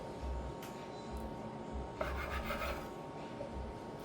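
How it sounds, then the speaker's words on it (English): A knife saws through the crust of a slice of low-carb protein bread, giving a faint, dry rasping scrape with a few short strokes, heard close and quiet. "I'm going to cut off the crust off the bread."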